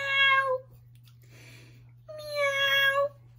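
A woman imitates a cat's meow with her voice, two drawn-out, wavering vocal meows, the first short and the second longer, close and clear, separated by a quiet pause over a steady low hum.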